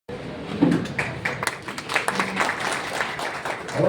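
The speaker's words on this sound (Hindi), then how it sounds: "जोरदार तालियां।" A crowd at a Tiranga Shaurya Samman Yatra honour ceremony claps steadily at moderate volume, a dense patter of many hands with scattered voices mixed in.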